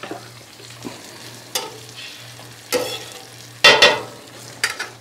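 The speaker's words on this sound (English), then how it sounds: "I'm going to put just a little bit of oil on here so I can toast my bagels." Bagels toasting in a little oil in a pan, giving a low steady sizzle with several sharper bursts of crackling and spattering spread across the stretch, fairly close and alone.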